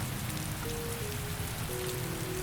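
Heavy rain falls in a steady, dense hiss that fills the whole stretch evenly and loudly, with a faint tonal hum on top and no talking.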